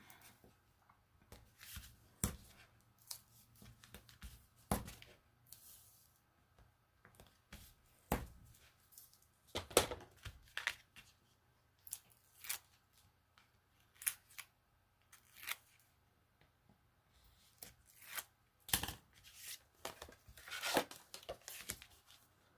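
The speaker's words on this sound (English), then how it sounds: "I'm debating whether to use tear tape or dimensionals on that, but I'm going to use tear tape" Double-sided tear tape being peeled and pressed down while assembling a designer series paper fun-fold card, heard as a string of short, crisp ripping and crackling bursts at irregular intervals, close but quiet over a faint steady hum, with no talking.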